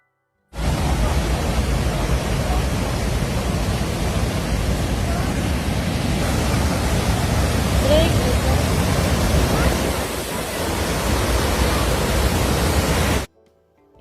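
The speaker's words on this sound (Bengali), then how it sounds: "চলুন এবার ঝর্ণার আরেকটু কাছে যাই।" Rhine Falls in Switzerland roars up close as a dense, steady wall of broadband rushing water that stays loud and unbroken for most of the stretch before cutting off abruptly near the end.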